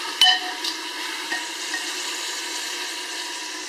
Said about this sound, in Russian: Ну и обжариваем по чуть-чуть.